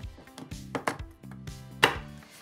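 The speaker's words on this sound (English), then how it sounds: "Just wanna roughly chop it up." Roughly chopping white chocolate with a knife on a board: a close, quiet series of uneven sharp knocks and crunchy cuts, about a dozen strikes in irregular rhythm, with no talking.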